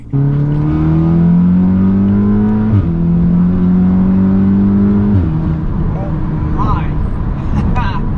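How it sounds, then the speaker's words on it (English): A big-turbo Audi S3 running on E85 revs hard through the gears, pitch climbing then dropping at each shift, loud and close, with faint turbo whooshes. "It's such an adrenaline rush just driving this car."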